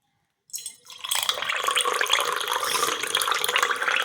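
Running water from a tap pours steadily into a bucket, a continuous splashing rush that starts after a brief pause and stays loud throughout.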